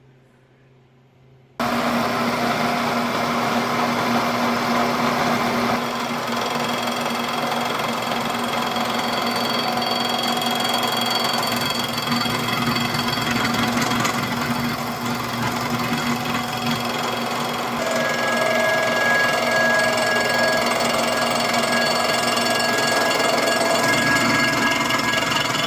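Datsun 240z Coyote engine mount brackets being machined flat on both sides, a steady loud metal-cutting drone with a whining tone that runs without pause after a short quiet start, no talk.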